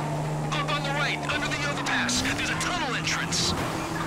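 A car in Grand Theft Auto V runs at speed with a steady engine drone and brief tire squeals, under almost continuous excited talk.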